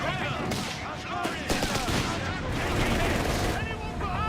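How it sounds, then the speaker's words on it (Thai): Continuous volleys of machine-gun and rifle fire pound a house in a Company of Heroes 3 battle, loud and sustained with heavier blasts mixed in. "ยิงใส่บ้านแม่งก่อน"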